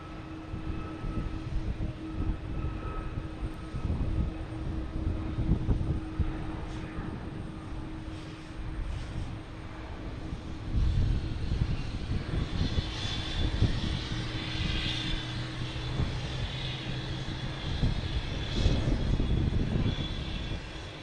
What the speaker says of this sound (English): oh, we got Alaskan Airlines taking off.